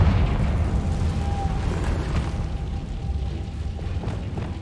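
Confringo fire-blast spell detonating in Hogwarts Legacy, a dense, sustained low rumbling blast with a brief bright crackle partway through, steady and loud over several seconds.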